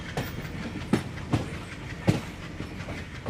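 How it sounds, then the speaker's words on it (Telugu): A train pulls out of a station in a film scene. Its wheels thud over the rail joints in an irregular clickety-clack, loud and nearby, over a steady rumble, with no voices. "అమ్మ ట్రైన్ బయలుదేరుతోంది"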